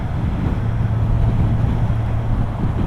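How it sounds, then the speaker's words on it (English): Steady, loud wind roar buffeting the microphone while riding a 2021 Kawasaki Z1000 motorcycle at about 80 km/h in a gusty cross breeze, a continuous low rumble with no talking. "there's a fair bit of breeze today, a bit of a cross breeze"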